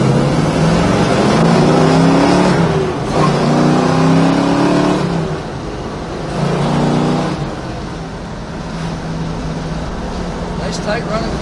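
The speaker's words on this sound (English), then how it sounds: "Nice tight running car. Pulls like it should, sounds like it should." A 1967 Chevrolet Chevelle SS engine runs steadily and pulls under load, rising and falling in pitch as it accelerates, with a rumbling exhaust tone close by.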